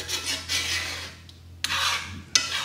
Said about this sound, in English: We're scraping up the browned bits.